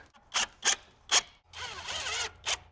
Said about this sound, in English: I'm gonna get some screws in it